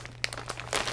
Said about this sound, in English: So let's open this up. It comes in a really nice wig bag, which is just a plastic bag.